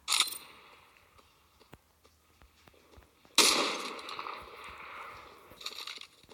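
A sniper rifle shot in the video game Cyber Hunter: a sharp crackling report near the start, then a louder, harsh burst midway that rings and fades over a few seconds, alongside faint game clicks.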